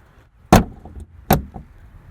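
Two sharp mechanical clunks about a second apart, close by, each followed by a brief softer click, like a Porsche Cayman car door latch releasing and opening.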